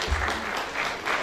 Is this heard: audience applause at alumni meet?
yes